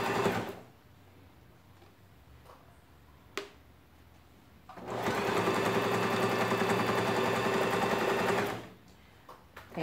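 A sewing machine backstitches along a seam on a zipper pouch: a steady, loud mechanical run of about four seconds with short taps and quieter handling before and after.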